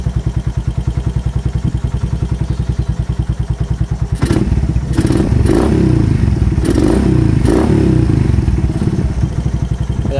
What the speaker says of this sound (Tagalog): malamig pa kasi ang makina natin mga boss